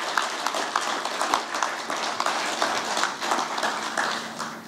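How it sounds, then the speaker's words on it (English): An audience claps and cheers at a corporate women's day celebration in India, a steady, moderately distant wash of applause with scattered louder claps throughout. "entire audience to give a cheer"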